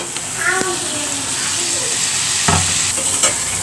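Potatoes and vegetable stems stirred into a sizzling fish curry in a pan, with steady frying hiss, a few scraping stirs and clatters, and faint voices in the background.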